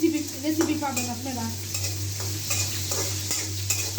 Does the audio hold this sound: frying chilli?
yes